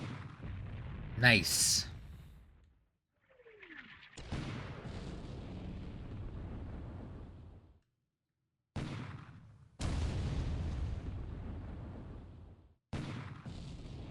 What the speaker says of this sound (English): So he's using the deck gun and the anti-aircraft gun.